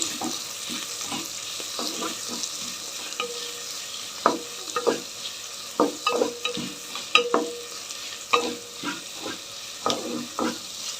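Close, loud scraping and stirring of dal khichdi in a pan as ginger paste fries, with irregular spoon strokes over a continuous soft sizzle and no talking.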